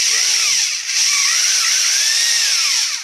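Electric drill spinning the oil pump shaft to prime a Studebaker engine, a loud whining motor with its pitch sweeping up and down as the load varies, then winding down.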